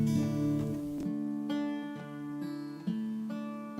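Steel-string acoustic guitar fingerpicking a repeating pattern over one held chord, with steady plucked notes ringing together; close and clear, with no talking.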